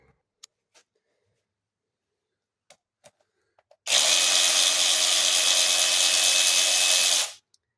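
A power tool undoes a bolt on a Volvo XC90 engine during a teardown: after a few faint clicks, a loud continuous whir runs for about three and a half seconds, then cuts off.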